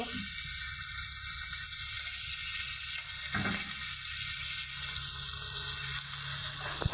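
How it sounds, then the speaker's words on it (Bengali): Catfish fries in a pan with a loud, continuous close sizzle, broken by scraping stir strokes around the middle and near the end. "তুমি যে এত জোরে নাড়াচাড়া করতেছো, মাছগুলো তো সবই ভেঙে যাবে।"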